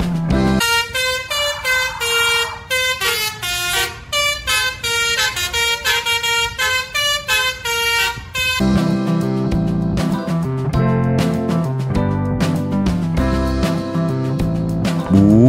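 Telolet horn of the Tunggal Jaya Kids Panda bus: loud, rhythmic bursts of musical multi-tone honking in quick repeated phrases, followed by a denser, steadier run of lower horn notes.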